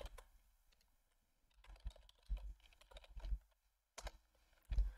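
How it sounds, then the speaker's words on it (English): Computer keyboard keys tapped in short irregular bursts while editing a YAML file in the nano terminal editor, with clear clicks separated by brief pauses and no talk. "So like, I could just start typing."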